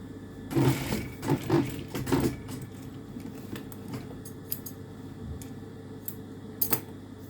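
A sewing machine stitches a seam along the unpicked line of a loose dress while a side pocket is added, giving a few short whirring bursts early on, then quieter ticks and clicks.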